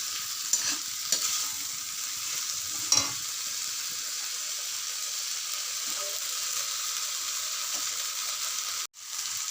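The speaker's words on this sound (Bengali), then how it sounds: "অল্প অল্প জল দিয়ে দিয়ে আমি এই মশলাটাকে কষাবো" A spice masala being fried down in a pan with small splashes of water, giving a soft continuous sizzle broken by a few scraping stirs of a spoon near the start and middle, with no talking.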